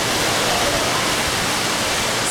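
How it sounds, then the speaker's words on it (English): A loud, steady rush of falling water, broad and constant like a large waterfall heard up close, in a cloud forest, with no other sounds rising above it. "This is huge waterfall."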